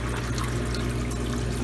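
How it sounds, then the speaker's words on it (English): Water pours steadily into a volumetric tank on a laboratory flow-measurement rig, a continuous close splashing rush with a low hum underneath, with no talking. "water is catched in the volumetric tank"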